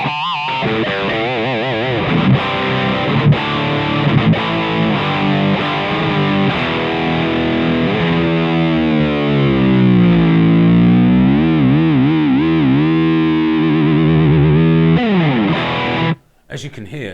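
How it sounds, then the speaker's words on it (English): Rothwell Tornado Overdrive pedal with its shift switch engaged, driving an electric guitar into a thick, steady distorted tone with sustained chords and bending notes for most of the passage, cutting off abruptly near the end. "the shift switch opens up a whole new vault of tones to play with"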